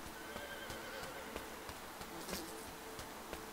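A video game horse whinnies over steady hoof clip-clops and a buzzing insect-like drone, with sharp clicks scattered throughout.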